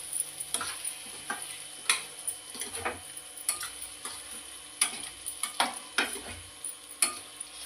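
Chicken liver fry with curry leaves stirred in a pan: repeated scraping strokes and sharp ticks of a spoon against metal, irregular but steady, over a faint sizzle, near and moderately quiet.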